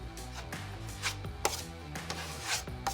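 Ordinary hardware-store drywall mud gets scraped and slapped onto a 6-inch drywall knife, giving a few close, wet scraping strokes at an uneven rhythm with no talking.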